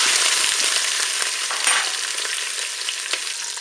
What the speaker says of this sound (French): on va pouvoir mettre notre rôti. Et on va le faire dorer sur toutes ses faces.